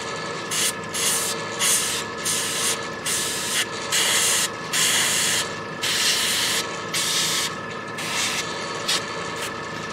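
An airbrush sprays paint onto a Reaper Hill Giant Lowland Warrior miniature in short, repeated bursts of hissing air, each a second or so long, close and fairly loud with brief pauses between; no talking.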